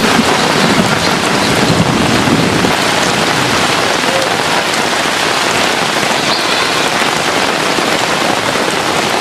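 Heavy rain pours steadily over Dabhoi town in the evening, flooding a garba ground. It is a dense, continuous hiss of drops on surfaces, loud and unbroken throughout, with some wind buffeting the microphone and no voices.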